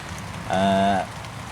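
Light rain falls on a lake in a southerly wind, a soft steady patter across the surface interrupted midway by a short tonal voice-like sound lasting about half a second.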